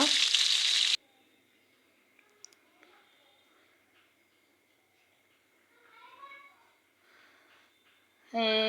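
Spice-coated fish dropped into hot oil in a wok, giving a loud, bright sizzle for about a second, then near silence with faint voices and quiet movement, before the loud sizzle returns at the end.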